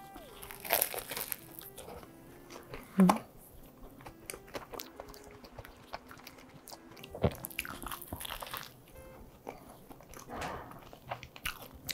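Crisp bites and crunchy chewing of a glutinous rice cake with red bean filling, frozen and then lightly baked, in a few sharp bursts separated by quieter munching, close to the mic.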